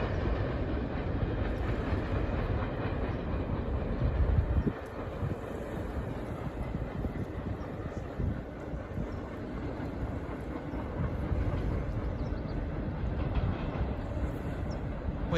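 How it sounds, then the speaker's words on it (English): A long BNSF freight train hauling ocean containers rolls steadily past nearby, a continuous loud rumble and rattle of wagons with faint rhythmic clatter and some wind buffeting, no voices. "That train is off to the ocean container depot in Oakland."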